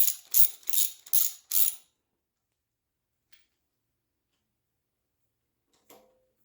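Ratchet tightening bolts on a 350 Chevy TBI engine during a rebuild, five quick bursts of clicking up close, then near silence with a couple of faint taps.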